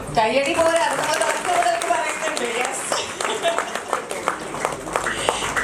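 Audience clapping at an Onam cultural programme, steady applause running the whole time, with an announcer's voice and crowd chatter layered over it.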